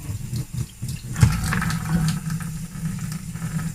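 Tap water runs steadily over a makeup brush being washed under a faucet, a continuous close splashing rush with slight changes as the brush moves through the stream.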